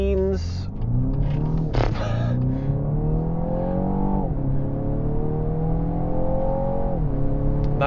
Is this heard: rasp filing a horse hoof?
no